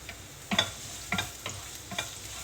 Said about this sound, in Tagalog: So, gisa na natin guys. Una natin yung bawang.